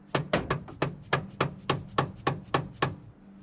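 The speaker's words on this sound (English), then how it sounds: "Hammer time!" Sharp metallic hammer strikes on engine parts of a 1997 Toyota Tacoma during timing chain work, about ten evenly spaced blows in a steady rhythm, close and ringing briefly after each hit.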